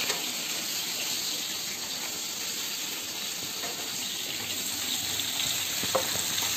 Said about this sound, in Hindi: सीताफल आलू थोड़ा हो गया फ्राई करना है अच्छी तरह से